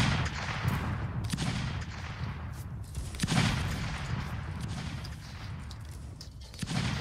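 Musket volleys fired at skirmishers in a Napoleonic line-battle game: a dense, continuous crackle of distant massed gunfire, with sharper, louder reports breaking through near the middle and again at the end.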